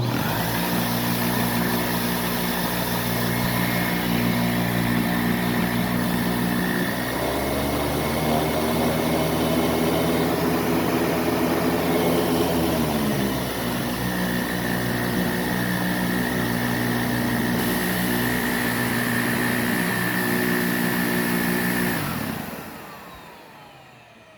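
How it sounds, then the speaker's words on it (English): A Windsor Versamatic upright vacuum cleaner runs with its power head on, a loud, steady motor drone with strong tonal hum that dips in pitch midway, recovers, then winds down at the end. "Power head's working again, so let's give this another try with the power head on."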